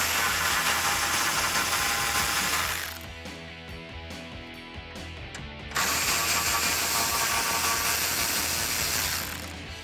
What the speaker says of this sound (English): grab your 13mm socket and remove the brace right in front of the inlet tube